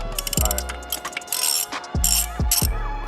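A ratchet wrench clicks in quick bursts while working a bolt during a plenum spacer and Y-pipe install on a Nissan 350Z, with sharp metallic ratcheting and low thuds between pauses, loud and close.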